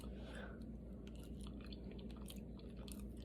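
Close, steady chewing of a bite of cheesy chicken and spinach spaghetti, soft moist mastication continuing for a few seconds with no talk over it.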